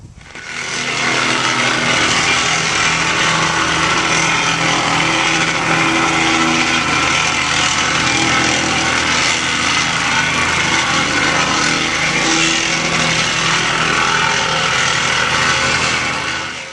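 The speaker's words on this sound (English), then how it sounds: "we will go over the entire patio with a plate compactor" A plate compactor runs steadily over a paver patio with swept-in sand, a loud continuous engine drone and vibrating rumble for the whole stretch, close and unbroken, with no talking.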